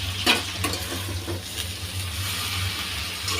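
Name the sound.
stirring mixed greens with potatoes frying in a pan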